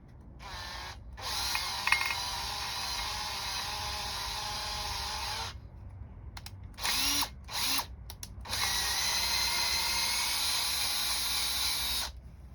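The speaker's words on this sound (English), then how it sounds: "I let the drill bit do all the work, all the guiding." A power drill whines steadily, stops briefly, then runs in short bursts before settling into a long continuous grind boring into a Land Rover Defender 300Tdi water pump casing, close and loud.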